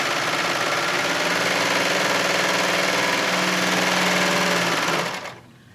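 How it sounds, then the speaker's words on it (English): A serger sewing machine trimming and stitching a pillowcase seam, a loud, close, steady whirring buzz that runs evenly for about five seconds and then winds down to quiet. "All we'd have to do for the serger is line it up, trim a little bit off."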